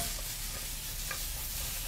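Vegetables sauté in a pan with a steady, dense sizzle and hiss throughout, with soft stirring scrapes underneath and no talking.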